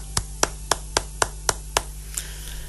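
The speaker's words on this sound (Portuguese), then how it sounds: "Aplausos." About seven sharp, evenly spaced claps ring out alone in a quiet room at a poetry tribute honouring José Saramago, followed by a faint final tap.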